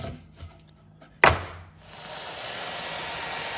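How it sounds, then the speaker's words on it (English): Wooden planks are sanded by hand, with a sharp knock followed by a steady, loud abrasive rasp of sandpaper over wood that continues to the end. "then it's a matter of doing a little hand sanding."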